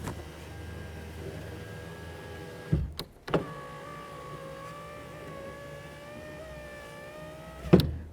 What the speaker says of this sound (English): we're going to test the window motor